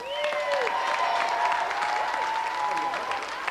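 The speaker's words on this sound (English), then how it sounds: "Round of applause for Carl" An audience applauds Carl Lewis after his sprint at a celebrity athletics challenge, steady moderate clapping from a crowd lasting the whole moment, with a voice faintly audible underneath.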